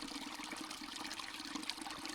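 Water trickles steadily in a small stream below Caw Fell after a dry week, a close, continuous babbling and splashing with no talk.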